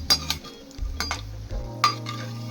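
Bread pieces frying in oil for bread halwa, a soft sizzle under a few sharp clinks and stirring scrapes of a utensil against the pan, close and with no talk.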